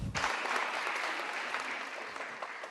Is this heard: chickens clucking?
no